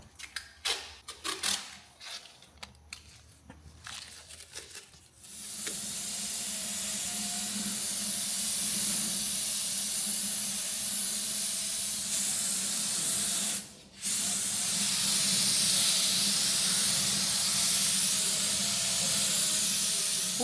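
Spray gun laying varnish onto a Chevrolet Silverado wheel: a few clicks and handling noises, then a long steady close hiss with one short pause before it resumes.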